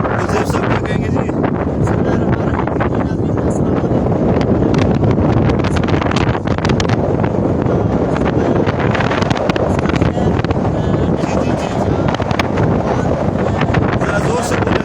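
Strong, steady wind roars across a lakeshore at Lake Van, Turkey, buffeting the microphone with constant low rumble and gusty crackle throughout, while voices speak faintly beneath the noise.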